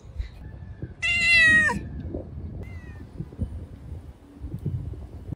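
A pet cat gives one clear, fairly loud meow up close, followed by a softer brief mew a moment later, against a quiet room with faint rustling and low background noise.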